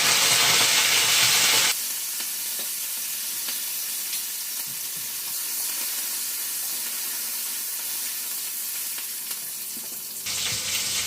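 Garlic, coriander and curry leaves sizzling and frying in a hot pan, a steady close hiss with a sharper, brighter sputter at the start and again at the end.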